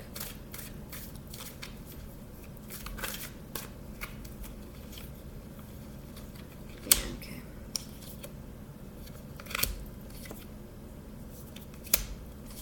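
Cards being drawn from an Osho Zen tarot deck: soft, quiet papery shuffles and slides with a few sharper snaps and flicks spaced irregularly, close up with no talking.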